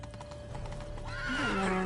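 Hoofbeats clip-clop steadily in The Witcher 3 video game, then a horse neighs loudly with a rising, wavering whinny near the end.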